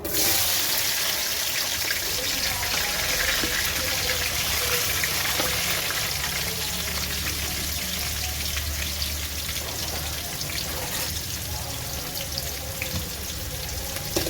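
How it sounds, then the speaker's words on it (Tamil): Chopped onions sizzle and crackle in a hot pan, a dense, even frying hiss with scattered pops that carries on steadily at close range, no voice over it. "வெங்காயத்தை சேர்த்து நல்லா வதக்கிக்கலாம்"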